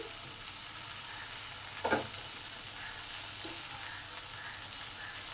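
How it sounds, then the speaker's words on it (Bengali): A steady, close sizzle of okra frying in a pan, with a brief scrape of stirring partway through. "আট থেকে দশ মিনিট পর চাপা খুলে দেখি কি অবস্থা ভেন্ডিগুলো ভাজা ভাজা হয়ে এসেছে"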